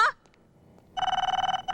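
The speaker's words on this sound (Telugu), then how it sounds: "ఎవరైనా ఫోన్ ఎత్తి చావచ్చు కదా అక్కడ" A telephone rings with a rapid trilling electronic bell that starts about halfway through and continues steadily after a brief pause, loud and near, in a Telugu action movie scene.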